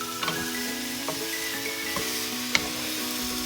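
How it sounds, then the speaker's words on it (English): Granny Smith apples are stirred in a hot pan, giving a soft, steady sizzle close by, with light scraping taps from the utensil and one sharper clink near the end, and no voices. "Now we're just gonna stir it up for a little bit."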